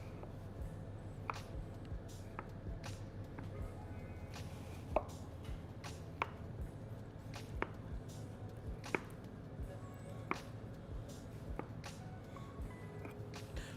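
Layered dough for qutab khingal cut with a knife on a board, a steady series of sharp, evenly spaced chops close by over a low background hum, with no talking.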